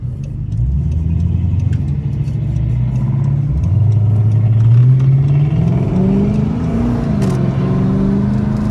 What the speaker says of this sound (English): that BMW sound nasty as hell